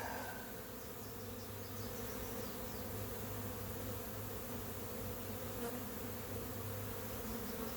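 A captured honey bee swarm buzzes steadily at its hive, a dense continuous drone holding close and loud throughout with no voices.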